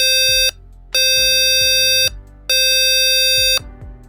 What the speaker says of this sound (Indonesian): buzzer akan menyala sebanyak 3 kali